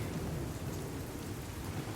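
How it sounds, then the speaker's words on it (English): A thunderstorm with heavy rain and wind batters a glamping tent at night in Japan, a dense, continuous roar of rainfall and rumbling with no voices. "this storm seems to be getting a little bit stronger"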